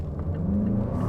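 Mazda CX-5 Turbo all-wheel-drive SUV pulling away from a stop, a short close low engine rumble rising into a revving whir.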